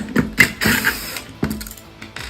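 Allen keys working bolts loose on an NAC CN90 nailer, a series of close, sharp mechanical clicks and ratcheting scrapes in short irregular bursts, with no talking.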